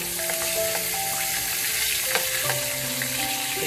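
Whiting fish fries in corn oil with a dense, steady sizzle and crackle throughout, close and fairly loud, with no talking.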